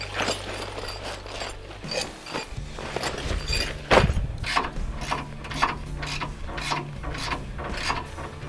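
Hand ratchet tightening loose U-bolts on a 76 Series Toyota Land Cruiser's sagging suspension, a run of quick clicking pawl strokes in uneven bursts with metallic knocks, close and without talk.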